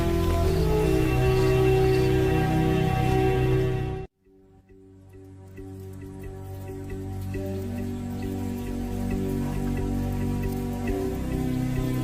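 Steady rain falls in the wild, a dense even hiss that briefly cuts out and then returns more softly, building back to a constant patter with scattered drops.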